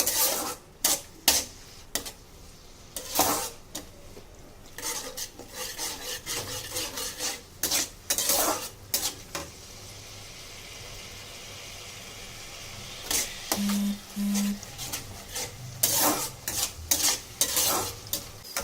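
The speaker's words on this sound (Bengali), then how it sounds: "4 চামচ টক দই দিয়ে ভালো করে নাড়তে থাকবো।" A spice masala mixed with sour yogurt is stirred in a pan over a medium flame for egg pulao, giving repeated close scraping and rubbing strokes in an irregular rhythm, with a low background sizzle.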